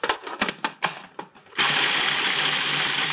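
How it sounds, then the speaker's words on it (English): A food processor grinds graham crackers and sugar for a cheesecake crust. A few short chopping pulses come first, then it settles into a steady, loud, continuous whir. "Just break them up a little bit and put them into the food processor."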